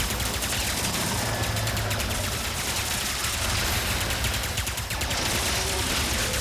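Rapid bursts of gunfire from the video game Ratchet & Clank: Rift Apart rattle almost without pause, loud and dense throughout, mixed with game effects.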